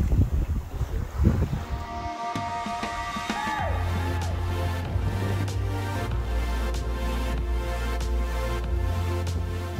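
Wind rushes over a sailing yacht at sea during the Rolex Giraglia race, a steady, loud roar of gusts buffeting the microphone, with a low drone and some tonal ringing underneath and no voices.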